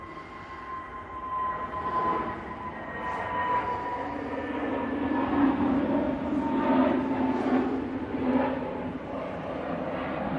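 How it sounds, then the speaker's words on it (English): An EasyJet Airbus A320neo takes off from Manchester Airport, a broad distant engine roar that swells steadily across the clip. It sounds faint and far off, with soft crackling rumble and no clear talking. "EasyJet A320 Neo off to Amsterdam"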